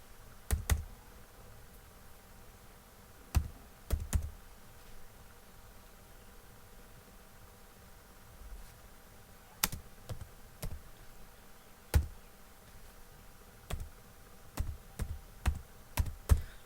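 Keystrokes on a computer keyboard while a résumé is typed in MS Word 2019, arriving as scattered bursts of sharp clicks separated by pauses, close and clear against a quiet room with no talking.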